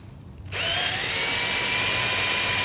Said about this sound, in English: And this one already is just tearing through it.